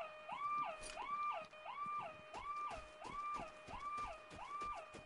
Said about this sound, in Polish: Teraz wszyscy słyszą dookoła ten dźwięk alarmu